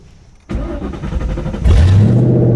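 A car engine fitted with a performance exhaust cranks and fires up abruptly, settling into a loud, deep idle, then surges louder as the throaty exhaust rumble swells.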